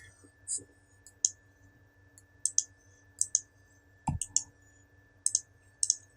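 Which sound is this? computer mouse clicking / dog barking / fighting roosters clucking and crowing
computer mouse clicking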